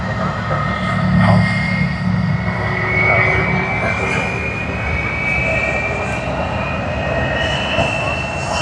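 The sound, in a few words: DHL cargo aircraft at Sydney Airport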